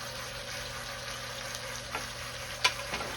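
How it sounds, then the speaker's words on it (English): A beef crown roast sears in a hot pan with a steady, even sizzle and a few faint clicks and taps over it. "I'm gonna sear it the best way I can"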